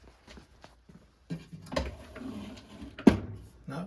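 A drawer in a hoard of metalworking tools is pulled open, giving a sliding rumble and a couple of solid clunks from shifting contents, close and fairly loud.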